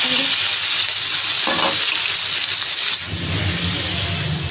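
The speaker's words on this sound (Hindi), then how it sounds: "इसको घी में हम तब तक फ्राई करेंगे तब तक इसका मुकम्मल चारों साइडों से कलर एक जैसा ना हो जाए" Chicken pieces fry in hot ghee with garlic, a loud, steady sizzle filling the whole stretch with occasional stirring scrapes, close up and without speech.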